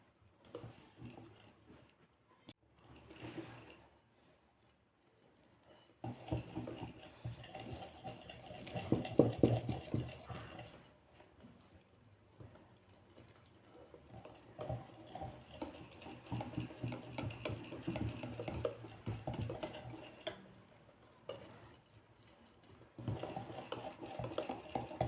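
Mandarin cake batter is mixed by hand in a bowl after a second glass of ingredients is added, with irregular scraping and sloshing strokes in bursts, close and soft, separated by brief pauses.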